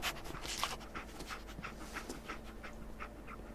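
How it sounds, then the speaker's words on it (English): Dogmeat, the dog companion in the video game Fallout 4, pants in steady quick breaths with occasional soft whimpers, close and fairly quiet, without talk. "Dog meat. Get the scent, boy."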